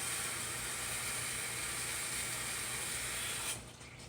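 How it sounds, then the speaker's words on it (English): Water poured onto the soil of a freshly repotted house plant, a steady close trickle and splash that holds evenly, then drops away abruptly near the end. "I'm going to go ahead and water that down just a little on that on top"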